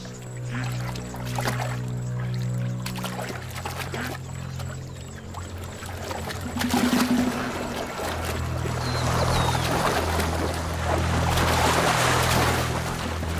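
Gazelles splashing through river water among crocodiles, with sloshing, pouring-like water movement and churning that grows busier and louder toward the end.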